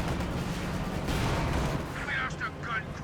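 Machine gun fire in Company of Heroes 2 pinning down Sturm Pioneers, a dense, continuous rattle that stays loud throughout, mixed with battle noise.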